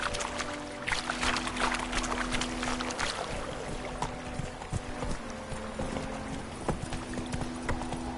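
Horse hooves clip-clop rhythmically in The Witcher 3 video game, a steady run of close, sharp thuds over a layer of ambient game sound.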